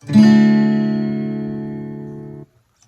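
A single acoustic guitar chord strummed once, ringing out clearly for about two seconds before being cut off.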